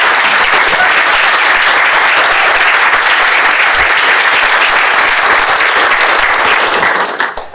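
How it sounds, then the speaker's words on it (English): A large audience at a schools summit gives a panel a sustained round of applause, loud and dense throughout before tapering off at the very end. "can we all give our panel a round of applause?"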